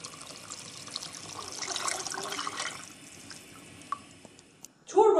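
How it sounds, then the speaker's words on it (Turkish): Meat broth pours into a pot of Ottoman-style wheat and meat soup with a soft, steady liquid splash for several seconds, fading to faint drips, then a sudden louder clatter at the end. "Biraz bu şekilde pişirdikten sonra artık et suyumuzu katabiliriz."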